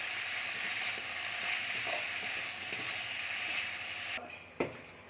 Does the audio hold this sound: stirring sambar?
yes